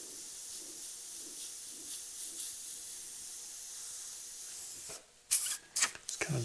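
An airbrush dusts black and grey paint onto a leather saddlebag with a steady soft hiss, then gives a few sharper, louder bursts near the end.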